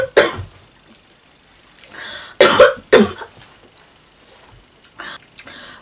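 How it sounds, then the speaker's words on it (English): A coughing fit: several harsh coughs in uneven bursts, close to the microphone, with quiet gaps and softer rasping between. "even if I'm dying of a coughing fit"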